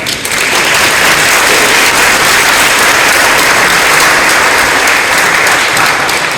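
A concert audience applauds the conductor with loud, steady, dense clapping that holds evenly at full strength throughout, with no voices.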